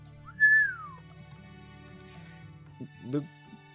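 A single low whistle from a person, sliding down in pitch, sounds as a story sound effect over a soft background hum, followed by faint quieter sounds.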